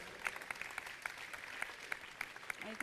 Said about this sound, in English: Shall we clap for wonderful Jesus?